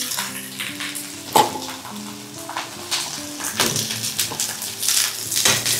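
Thinly shredded cabbage fries loudly in a pan as it is stirred, giving a close, steady sizzle with a sharp scrape of the spoon and rustling tosses, and no voices.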